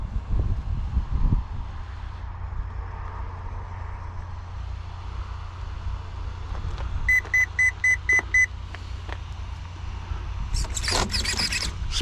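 An Arrma Mojave RC car powering on gives a short series of electronic beeps, about half a dozen evenly spaced chirps, after a low background hum, followed by a brief louder rustle near the end.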